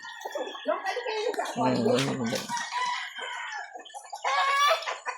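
Imported yellow leg hatch chickens cluck and squawk close by in a backyard, with a rooster-like crow in the middle; several birds call over each other.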